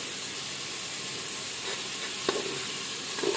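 Homemade ghati masala, a mix of fried onion, garlic, coconut and two or three kinds of chilli, sizzles in hot oil for beetroot bhaji, giving a steady close hiss with a few brief stirring clicks near the end.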